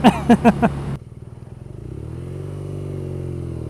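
BMW R nineT with its boxer twin engine, ridden at speed: a few sharp throttle blips and clattering bursts up front, then a steady low droning engine note that rises slightly as the bike pulls along.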